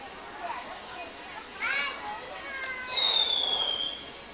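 Fireworks go off at a July 4th picnic in 1989, ending in a loud whistling, crackling burst near the end, with people talking through the whole stretch.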